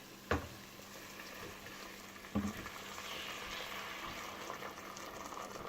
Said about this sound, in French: je vais tout simplement ajouter l'eau bouillante et fermer ma cocotte